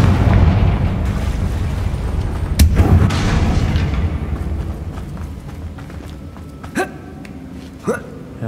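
Confringo fire-blast spell exploding in the video game Hogwarts Legacy, a loud booming burst that rumbles and fades over several seconds, followed by a couple of smaller sharp impacts.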